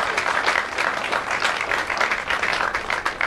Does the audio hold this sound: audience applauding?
yes